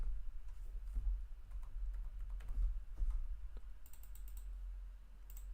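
A single computer keyboard key press, faint and brief, amid a low background hum, with a few other soft clicks.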